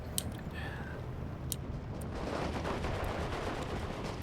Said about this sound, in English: this looks like a barrage coming down with 100mm